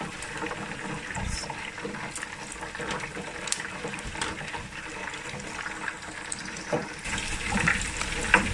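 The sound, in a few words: draining liquid while cooking chicken wings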